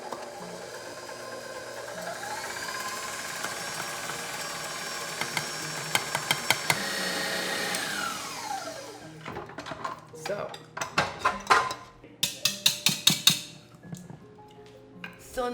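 Electric mixer whipping egg whites with granulated sugar for a raspberry pavlova, a steady whirring hum with the beaters clinking and rattling against the bowl, then a run of sharp tapping knocks as the whisk is struck on the rim.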